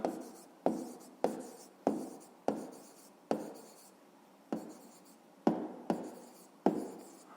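Handwriting of a math answer, the volume of a parallelepiped, comes as about eleven crisp, evenly spaced strokes, each a sharp scratch fading quickly, close and alone in a quiet room.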